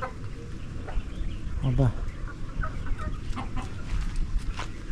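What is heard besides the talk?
darag native chickens clucking, hen about to lay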